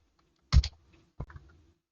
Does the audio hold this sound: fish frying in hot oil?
no